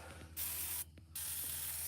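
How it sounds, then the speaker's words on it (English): An aerosol spray can is aimed at a rusty bolt on a New Holland Super 77 prototype baler, giving two close, loud hissing bursts split by a brief pause. "I'm gonna spray that bolt."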